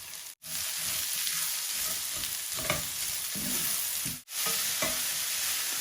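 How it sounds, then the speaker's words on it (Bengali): Onions fry in oil with bay leaf, cinnamon, cloves, cardamom, ginger and garlic, producing a dense, steady hiss and close stirring scrapes, broken by two short drops into near silence. "এখন পেঁয়াজ দিলাম"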